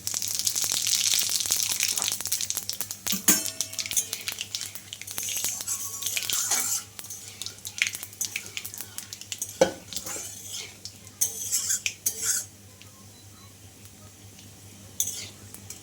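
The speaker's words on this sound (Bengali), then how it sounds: "পরিমাণ মতন সর্ষের তেল দিয়ে দিলাম আর এখন আমি ফোড়নে দিয়ে দেবো একটু পাঁচ ফোড়ন আর তেজপাতা আর শুকনো লঙ্কা" Panch phoron, bay leaf and dried chilli sizzle in hot mustard oil, a bright crackling hiss at first that fades, with scattered spoon scrapes and pan clinks nearby.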